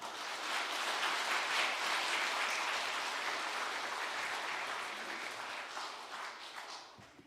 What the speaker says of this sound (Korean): 우리 힘찬 박수로 모시겠습니다